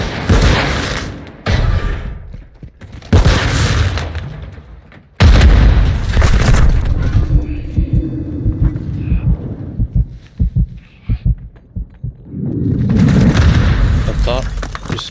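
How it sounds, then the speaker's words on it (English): A planted charge detonates in a search-and-destroy round of a first-person shooter, giving a loud booming blast that rumbles on, between other heavy game bursts and gunfire, with players talking over the action. "plant the charge on the target and destroy it"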